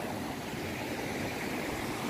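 A river runs alongside a bike path in Braga, Portugal, giving a steady, full rush of flowing water that fills the whole moment evenly, with no voices over it.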